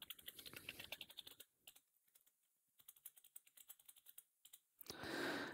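Password typed on a computer keyboard: quick bursts of close, crisp key clicks in an uneven rhythm with short pauses, ending in a louder rustling burst.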